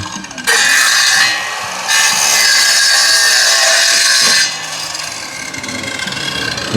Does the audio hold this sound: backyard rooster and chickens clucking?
no